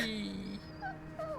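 A puppy whimpering in the Final Fantasy 16 video game, a few soft, high whines and yips in quick succession, faint and brief.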